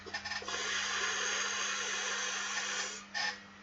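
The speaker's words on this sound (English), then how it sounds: "that was my air conditioner" An air conditioner running in a home during Chicago summer heat gives off an irritating steady hum and hiss that runs for about three seconds, then briefly stops and restarts, fairly faint, with no talking.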